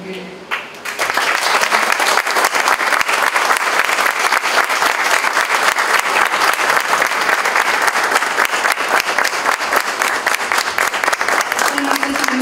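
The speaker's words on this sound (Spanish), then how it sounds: "les vamos a pedir un gran aplauso para la maestra" A packed audience at an evening tribute at the Salón de la Plástica Mexicana breaks into loud, sustained applause, dense clapping filling nearly the whole stretch after a brief quieter start.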